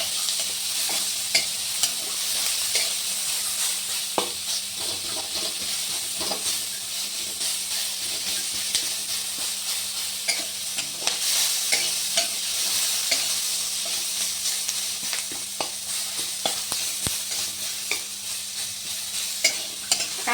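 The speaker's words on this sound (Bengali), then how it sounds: "ভালো করে নেড়ে চেড়ে একটু ভাজা ভাজা করে নিই।" Onions fried with salt and turmeric and stirred in a pan give a steady hissing sizzle with repeated close scraping stirs over about twenty seconds, with no talking.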